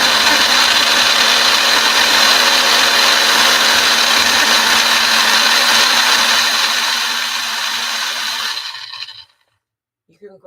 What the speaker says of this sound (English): You can grind it as fine as you want it and decide how you want it